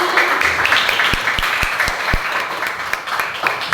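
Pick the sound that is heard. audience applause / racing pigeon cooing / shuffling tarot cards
audience applause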